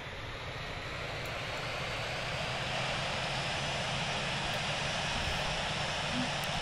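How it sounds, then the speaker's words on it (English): A JAL Airbus A350 jet engine spools up during pushback in the Infinite Flight game, a steady, loud broadband roar and whine that holds evenly throughout with no voices. "Engine number 1 is starting."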